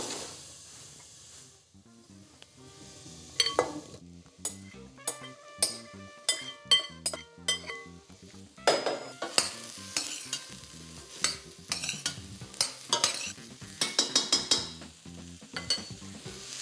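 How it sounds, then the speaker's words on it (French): Button mushrooms (champignons de Paris) tumble into a pan of softened shallots and sizzle steadily, with repeated sharp clinks and scrapes of stirring and a fainter hiss running underneath. "Une fois que ces échalotes sont revenues, je vais verser mes champignons de Paris"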